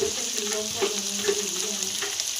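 Spices hitting hot oil in a frying pan over cooked onion and tomato, a steady close sizzle and crackle with light stirring, no talking.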